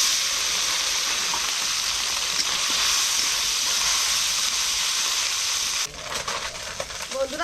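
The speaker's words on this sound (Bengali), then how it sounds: "তেল গরম হয়ে গেছে, অল্প অল্প করে ভেজে নেব।" Small fish frying a few at a time in hot oil in a kadai, making a dense, steady hiss that drops near the end to softer, scattered crackles.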